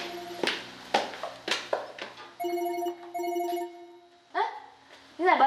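A telephone rings in a room during a conversation, with bursts of ringing alternating with speech from people nearby; the ring tone is moderately loud and repeats twice.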